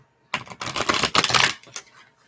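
A rapid, crisp riffling of tarot cards lasting about a second, followed by a few softer taps as the deck settles.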